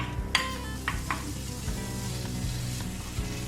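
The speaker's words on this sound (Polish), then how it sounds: "Teraz będę obsmażać do momentu, aż boczek nie puści tutaj tłuszczyku." Finely chopped smoked bacon and pork tenderloin fry in a pan, giving a steady close sizzle with a few sharp stirring clinks early on and no talking.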